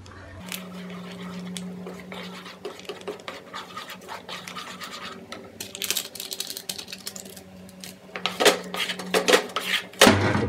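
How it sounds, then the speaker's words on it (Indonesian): A rainbow-coloured fishing bait mix is stirred in a bowl, giving close scraping, squelching scratches and occasional knocks against the bowl over a steady low hum, louder toward the end. "Sambil diaduk."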